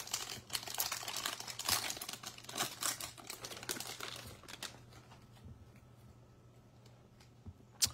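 A Topps Heritage baseball card pack is torn open up close, with crinkling and ripping of the wrapper in quick bursts that fade into quieter rustling, plus a sharp tap at the end.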